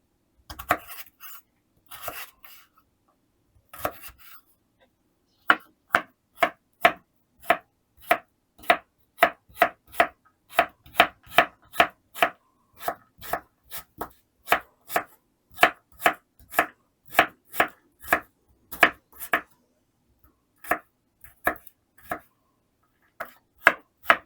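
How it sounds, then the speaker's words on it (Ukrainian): Knife chopping carrots into small cubes on a cutting board for kulish, a few scattered cuts and then a long run of crisp, regular chops, close and clear with no talk. "Моркву нарізаю кубиками, але розмір кубиків трішки має значення."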